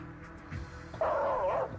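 Dog barking, a short whimpering yelp and then a louder sustained whining bark near the microphone over low background noise.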